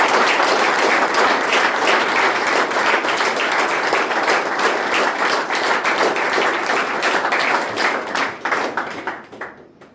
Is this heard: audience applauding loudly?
yes